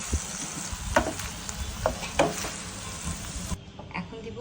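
Mushroom and capsicum sauté in hot oil left in the pan from cooked chicken, a steady close sizzle broken by a few sharp pops and stirring clatters before the sound drops away near the end.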